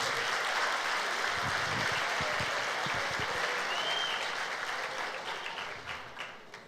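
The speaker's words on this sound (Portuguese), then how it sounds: "Quem recebe, dê um aplauso ao Senhor Jesus." A church congregation applauding during a Sunday service, a long steady wave of clapping that holds at a full level before gradually tapering off toward the end.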